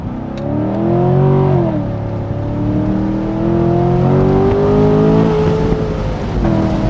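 A car's engine revs hard in a show-off display, rising and falling through several loud, sustained pulls over about seven seconds, close to the listener with no talking.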